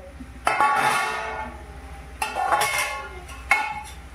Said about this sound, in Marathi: आता ही भेंडी आपण याच्यात टाकू.